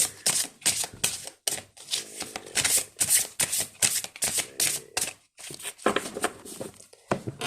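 Playing cards spill and flutter while a deck is shuffled, giving a rapid, dense series of crisp riffling and slapping bursts with short pauses between them, close and alone.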